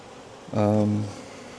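Honeybees from an open, queenless hive with emergency queen cells, a short rising buzzing drone that swells for about half a second close by, then fades back to a quiet background.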